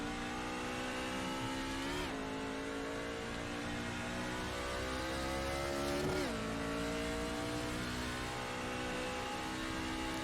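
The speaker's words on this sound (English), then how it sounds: "There's a car approaching." A NASCAR pickup race truck in iRacing, its engine holding a steady mid-pitched drone with two quick rising pitch sweeps as it closes in, loud and continuous with no talk.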